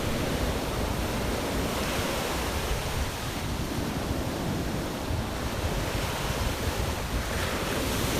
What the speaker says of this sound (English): Listening to the waves. Try to get a feeling that you're there.